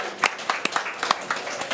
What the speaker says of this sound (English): could you give them a huge round of applause just for being here and being a part of today?